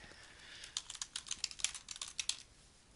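Quick bursts of clicks from a computer keyboard as a search term is typed, an uneven run of light, close keystrokes over a quiet background, with no talking.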